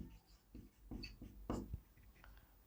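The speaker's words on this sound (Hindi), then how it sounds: "मैं लिख देता हूं" Chalk or marker writing on a classroom board during a class 10 chemistry lesson: a run of quiet, close scratchy strokes in short bursts, with no talk.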